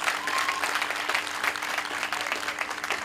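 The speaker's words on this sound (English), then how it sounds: "So give yourselves a round of applause." A high school graduation audience applauds in a steady, dense patter of clapping that fills the hall evenly from start to finish, with a faint crowd murmur underneath.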